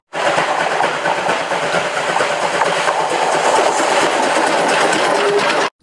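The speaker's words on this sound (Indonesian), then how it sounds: "Wow, kereta api, teman-teman." A train passes close by, with a loud, steady rumble and rail clatter that fills nearly six seconds before stopping abruptly.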